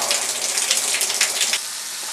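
A shower runs as a steady, loud hiss of spraying water close by, with the spray easing to a softer wash near the end.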